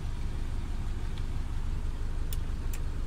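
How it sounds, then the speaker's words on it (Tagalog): Mitsubishi Lancer engine idling with the aircon switched on, its idle sagging under the load: a steady low rumble held close throughout, with a couple of faint ticks over it and no talk. "Tingnan niyo mga sir, mamatay yung makina."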